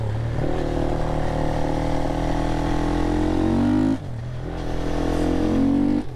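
A Herald Brute 500 single-cylinder motorcycle engine thrums loudly while being ridden, a close, steady rumble that climbs in pitch under throttle, dips briefly as the revs drop, then rises again.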